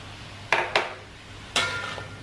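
Celery being stir-fried in a pan with a spatula, giving three sharp scraping clatters of utensil against metal, two close together and one after a short pause, over a faint background.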